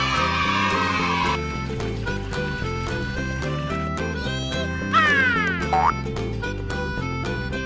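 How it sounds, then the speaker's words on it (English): Cartoonish duck quacks set inside a bouncy children's music track, a few squeaky descending quack-like calls near the end over steady rhythmic background music. "Yellow duck."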